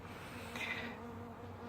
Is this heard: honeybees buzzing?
yes